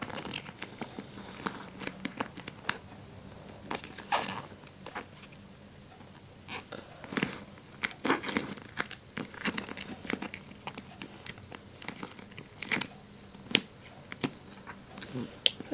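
A handmade duct tape pillow being folded and pressed flat, giving soft scattered crinkles, rustles and sticky peeling crackles at close range, mixed with occasional quiet talk.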